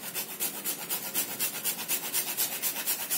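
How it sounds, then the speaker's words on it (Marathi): Fresh dry ginger and nutmeg are grated by hand for sweet millet puris, producing a quiet, close, rhythmic rasping of steady back-and-forth strokes, about a dozen over three seconds, with nothing else heard. "सुंठपूड आणि जायफळ मात्र अगदी ताजं ताजं किसून घालायचं"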